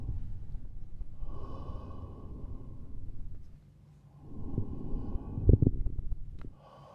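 A patient draws slow, deep breaths during a chest examination, two long breathy cycles heard close up with a pause between and a brief knock near the end, no talk.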